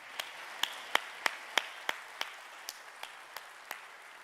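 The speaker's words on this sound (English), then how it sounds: "can you stand and let's give them a round of applause." Sparse, slow applause for college faculty and administrators at a community college commencement ceremony, a few hands clapping in a steady rhythm of about a dozen distinct claps, moderately distant and fairly quiet in a large hall.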